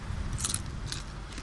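Crisp crunching bites into fried sheep tail fat crackling, a few sharp close crackles spaced irregularly over steady low background noise, no talking.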